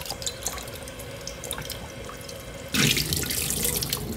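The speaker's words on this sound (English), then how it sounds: "You want to wash your casing like so," Tap water runs through a sausage casing as it is rinsed, a steady splashing stream that suddenly grows louder and brighter partway through, with scattered drips and no talking.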